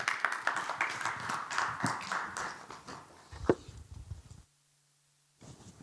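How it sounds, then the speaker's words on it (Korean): Brief clapping from a seminar audience welcoming a presenter at a digital policy debate, fairly sparse and quiet, fading out before a short silence and a low hum. "박수로 환영해 주시기 바랍니다"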